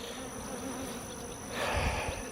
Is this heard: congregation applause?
no